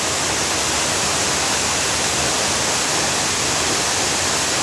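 Piney Falls in Tennessee, brimming with water, roars as a steady, loud, broadband rush with no pauses and no voices.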